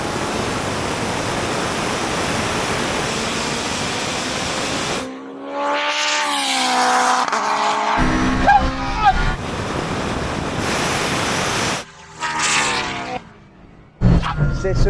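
A roaring drag race between an all-wheel-drive 1000 hp Honda and a Porsche 918 Spyder, loud engine and wind noise giving way to rising engine whines as the cars pass, with excited voices shouting over it.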